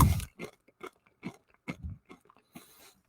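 Einkorn flakes chewed right into a microphone, a run of close, crisp crunches in an uneven rhythm with short gaps, loud at first and then softer, no talking.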